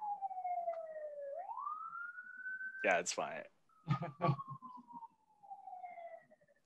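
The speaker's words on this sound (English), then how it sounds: "Hold on, there's a siren outside." A siren wails outside, rising and falling steadily at moderate distance, while a person speaks briefly over it.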